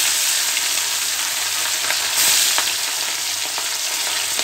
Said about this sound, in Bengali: তেলটা খুব ভালোভাবে গরম হয়ে গিয়েছে, এখন আমি মাছগুলো ভেজে নিব।